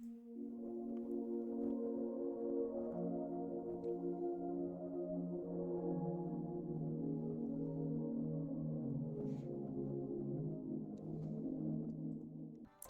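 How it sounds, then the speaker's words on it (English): A warm synth pad from an FL Studio piano melody holds soft, layered sustained chords at low volume, smooth and continuous for nearly thirteen seconds with no voices. "We got this warmth pad"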